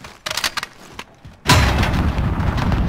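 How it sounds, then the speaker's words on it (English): Grenade explosion in the video game Call of Duty: Modern Warfare. A few scattered shots and thumps come first, then a heavy, loud boom whose rumble carries on to the end. "Oh, I threw a grenade."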